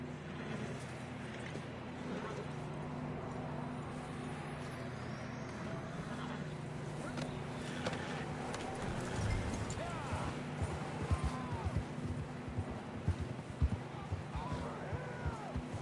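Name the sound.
horses riding, hooves clip-clopping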